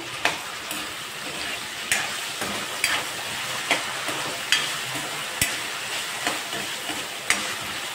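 Potatoes frying in a pan for aloo rice with salt added, giving a steady close sizzle punctuated by regular spatula strikes and stirring clicks about once a second.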